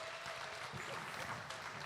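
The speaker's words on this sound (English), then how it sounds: "Let's give them a round of applause." Audience applause at a county fair beef show in Northern Wisconsin, a steady, dense wash of clapping heard from a distance, fairly faint and continuous for a couple of seconds.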